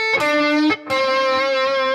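A blues lick on a clean-to-slightly-driven electric instrument sounds as two sustained, ringing notes, close and loud, with a brief gap between them and no talking.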